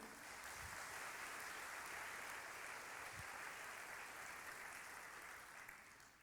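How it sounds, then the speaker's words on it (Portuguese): A church congregation gives a round of applause during a sermon, a continuous, fairly distant wash of clapping that stays even and then tapers slightly at the end. "dá uma salva de palmas aí."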